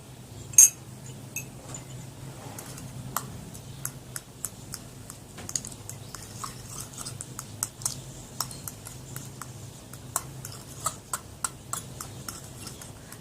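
Fresh aloe vera gel and potato are stirred together in a bowl, producing faint, scattered light clicks and clinks of a utensil against the bowl over a quiet background.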